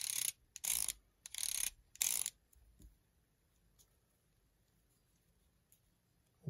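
The aperture ring of a Helios-77M-4 lens is turned by hand, giving three quick close clicking ratchet bursts followed by a few faint ticks and near silence.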